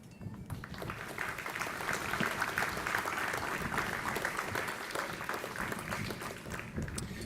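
Audience applause at a fire and rescue recruit course graduation ceremony, a dense, even wash of clapping hands from a crowd that holds steady for several seconds.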